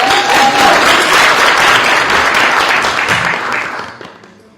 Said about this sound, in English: Okay, we can clap.